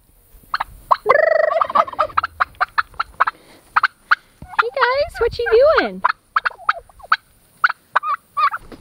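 Turkeys gobble loudly and repeatedly nearby, a warbling burst amid many short clucks, while a person briefly speaks.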